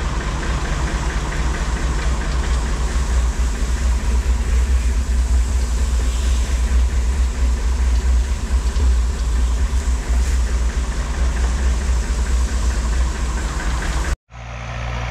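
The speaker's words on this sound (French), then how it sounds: "on procède au mélange de la facélie et de la moutarde. À l'aide de la bétonnière" A concrete mixer churning phacelia and mustard seed on a farm, its engine running as a steady loud drone with a rattling, knocking texture that carries unbroken until it cuts off near the end.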